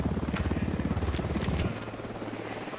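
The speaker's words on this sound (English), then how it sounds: "Who need that chopper? Stay low." Helicopter in the video game Ghost Recon Wildlands, a steady rapid rotor thumping that is loud and close at first, then drops to a softer, more distant chop.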